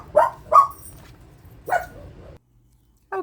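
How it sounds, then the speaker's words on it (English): Several dogs bark at a delivery driver indoors: three loud, close barks in the first two seconds, a pause, then one more bark right at the end. "The dogs were barking at the FedEx guy."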